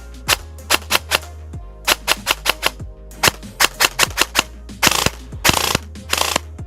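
An airsoft gun fires through a Spitfire tracer unit set to flash mode, giving sharp close single shots in quick bursts of four to six, separated by short pauses, with a few rapid full-auto strings near the end.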